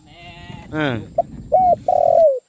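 A spotted dove at a bird trap gives short hollow coos, one brief note followed by two longer drawn calls, close and clear, with a voice talking over the start.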